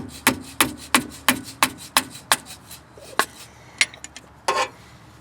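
A wrench works the nuts off the transfer case end of a Titan front driveshaft, giving a steady series of sharp metallic clicks roughly three per second, close and clear, then a few scattered knocks and a short scrape.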